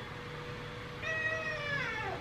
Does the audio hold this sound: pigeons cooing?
no